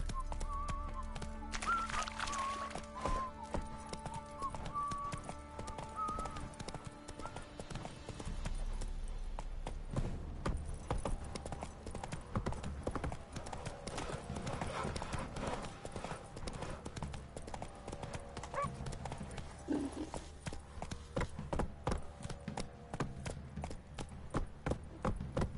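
Hooves of Roach, the horse in The Witcher 3: Wild Hunt, clip-clop in a steady galloping rhythm throughout, close and prominent over game music and ambient sound.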